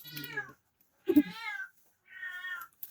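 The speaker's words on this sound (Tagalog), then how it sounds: "Kasi siya nasa background music ko ha. Inhit kasi yung pusa ko eh." A female cat in heat meows repeatedly in the background, three drawn-out, tonal yowls separated by short silences, fairly near and clear with no talk over them.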